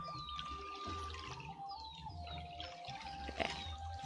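An ape drinking water in Ancestors: The Humankind Odyssey, heard as a soft continuous trickle and lapping of water with faint jungle ambience, quiet and steady throughout.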